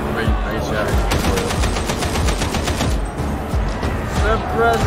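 Rapid automatic gunfire from Warhammer 40,000: Darktide, a dense, continuous stream of shots under loud game action with overlapping voices throughout.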